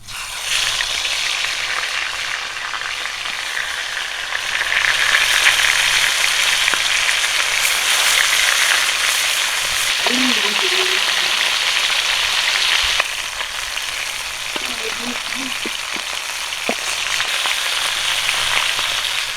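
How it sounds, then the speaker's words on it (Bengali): Fish pieces rubbed with turmeric and salt fry in hot mustard oil, a steady close sizzle and crackle throughout, with a few soft utensil knocks partway through. "প্রথমে মাছটা ভেজে নিব।"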